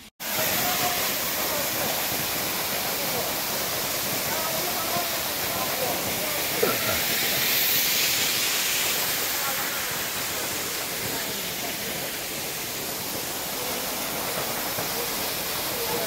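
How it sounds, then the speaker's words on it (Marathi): Steady broadband rush of water from a hidden waterfall, loud and continuous throughout with no clear breaks. "हा हिडन धबधबा आहे."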